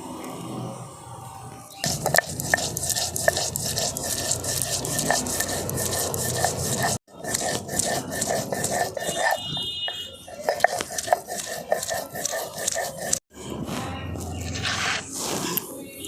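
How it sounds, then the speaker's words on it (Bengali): Coriander seeds, cumin and black pepper being ground into a paste on a grinding stone, a continuous rough scraping and crunching rubbed back and forth, close and steady with two brief pauses. "এই ধনে জিরে গোলমরিচটাকেও আমি বেটে নিচ্ছি"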